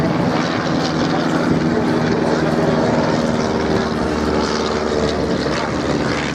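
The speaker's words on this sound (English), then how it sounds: "we have on the right hand side, just crossing over, a Fokker triplane that is pursuing a C-5." A Fokker triplane with a propeller engine drones steadily as it passes overhead at an RAF Cosford air show, its broad engine roar loud and continuous throughout.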